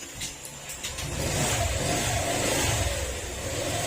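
A Honda Click scooter engine runs close by at a steady, slightly rising rev as its idle screw is adjusted, with no talking over it.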